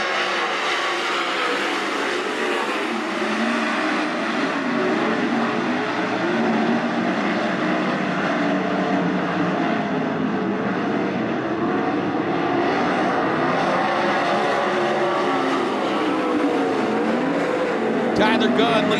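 Sprint cars roar together at the start of a B main race at Attica Raceway Park, a loud, continuous multi-engine howl holding steady throughout with a track announcer talking over it.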